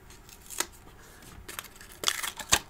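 Scissors snip through paper while a stamped craft image is cut out, a few sharp close clicks that come irregularly, the last pair crisper and louder, with no talk.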